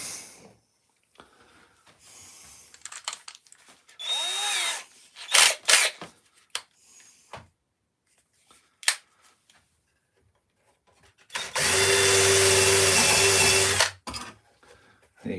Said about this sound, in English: Let's give it a countersink.